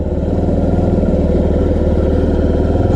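A Honda Ruckus scooter's Get engine idles while it warms up before an oil change, a close, loud, steady putter with a fast even pulse and light mechanical clatter. No voices.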